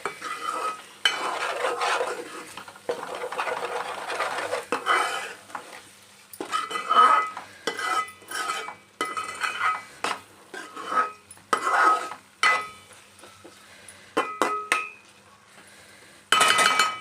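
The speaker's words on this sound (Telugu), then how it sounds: "ఒకసారి కలుపుకోండి." A spoon stirs salt into red chicken curry in a pan, scraping and clinking against the metal in irregular bursts with brief pauses, a soft sizzle underneath and no talk.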